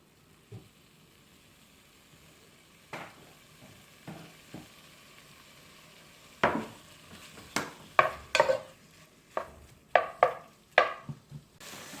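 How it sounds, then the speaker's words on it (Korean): Beef stir-fried in sesame oil, starting as a quiet low simmer and then broken by a run of sharp clatters and bursts of sizzle as the meat is tossed and scraped in the pan, growing busier toward the end. "자, 그러면 먼저 고기를 볶아 줄 겁니다."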